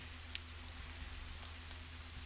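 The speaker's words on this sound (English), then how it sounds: "I shall leave the lovely rain running and I will be right back." Steady, faint rain falls continuously with an even hiss and a low background hum, and no voices are present.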